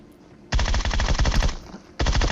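Automatic gunfire in PUBG Mobile knocks down an enemy as two loud, rapid bursts of close shots, separated by a short pause.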